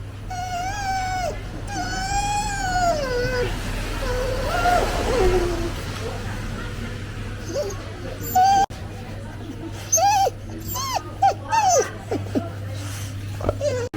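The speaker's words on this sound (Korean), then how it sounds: "강아지가 되게 사람을 좋아하네" A dog whimpering and yelping excitedly while greeting people somewhere in Chiang Mai, Thailand, with high, wavering whines in repeated bursts over a steady low hum and some background voices.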